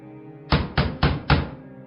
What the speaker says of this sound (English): Loud pounding rang out again, causing the door to rattle on its hinges